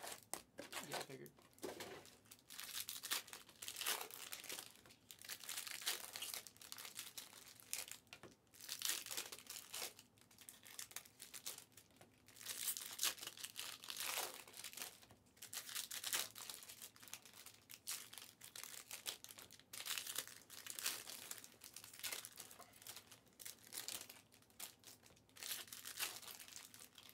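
Foil packs of Panini Optic basketball trading cards being torn open and crinkled by hand, a steady run of close crackling and tearing rustles throughout, with people talking at times.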